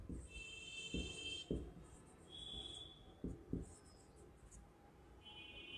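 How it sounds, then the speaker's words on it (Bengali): Pen or marker writing an alcohol compound's chemical formula on a board during an organic chemistry lesson, with a few distinct strokes and taps at a moderate level over a faint steady background. "আমি যদি এখানে লিখি একটি অ্যালকোহলের যৌগ লিখি"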